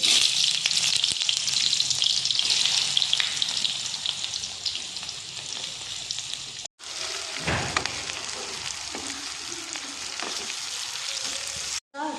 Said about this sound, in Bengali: এখন এখানে কেটে রাখা 4টে পেঁয়াজ ভালো করে লাল লাল করে ভেজে নেব।